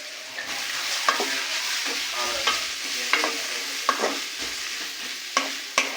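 Chopped vegetables frying lightly in a little butter for a quick street-food-style snack, a steady soft sizzle broken by repeated scraping stirs of a spatula in the pan, close and alone without talk.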